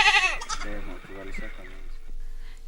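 Goats bleating loudly at a farm in Kenya, several wavering cries overlapping near the start, then continuing under a voice speaking over them.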